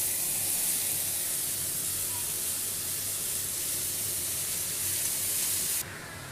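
Washed ash gourd pieces dropped into hot cumin-tempered oil in a pan, giving a loud, steady, hissing sizzle close up that drops off abruptly near the end.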